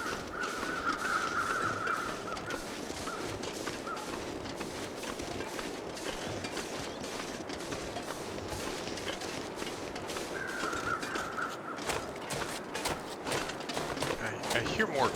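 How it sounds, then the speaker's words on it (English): Crows cawing in the video game The Long Dark, a few harsh calls near the start and again around the middle, set against a steady wintry ambient bed with a voice talking throughout. "I hear more crows."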